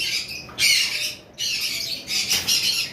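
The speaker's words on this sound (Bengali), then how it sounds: "লুটিনো কোকাটেল ব্রিডিং পেয়ার রয়েছে" Harsh, loud squawks from a lutino cockatiel, close by, coming in three or four bursts with short gaps between them.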